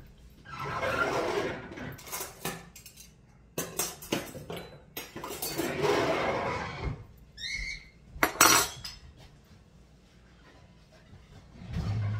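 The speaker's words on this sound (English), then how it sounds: "Let me get it out of the pot." Cooked oxtail lifted out of a pot, with metal utensils scraping and clinking against the pot in short bursts between quiet stretches, close by and without talk.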